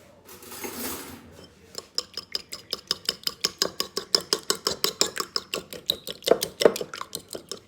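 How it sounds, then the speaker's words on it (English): A fork beats two eggs in a bowl for coffee cake batter, starting after a short rustle: a rapid, steady run of close metallic clinks and tapping strokes against the bowl, dozens in a row and fairly loud, with no talk. "Then get 2 eggs and just break these up just a little."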